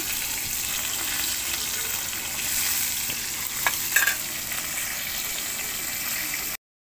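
Fish sizzles steadily in hot oil in a pan, a continuous crackling hiss with a few brief sharper pops and spatters near the middle, close and unaccompanied by voices.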